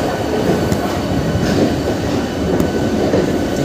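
From aboard a crowded Indian Railways local train running from Santragachi to Howrah comes a loud, continuous rumble with rattling carriages and faint wheel clatter, and no talking.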